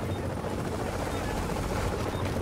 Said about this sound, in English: Helicopter landing.